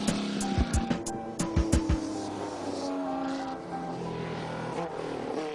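An open-wheel race car climbs the Pikes Peak hill climb, its engine note rising and falling through gear changes at a distance, with a run of sharp pops or clicks early on over steady background noise.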